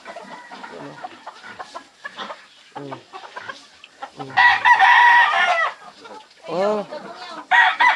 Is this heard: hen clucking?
yes